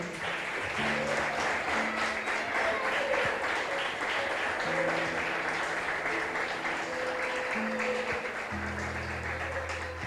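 Congregation applause during a church sermon, sustained dense clapping from many hands lasting throughout, steady and even with faint sustained musical tones underneath.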